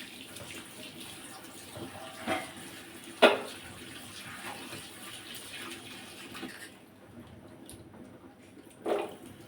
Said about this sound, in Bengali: আর তো এদিকে লাউগুলা ধুয়ে নিব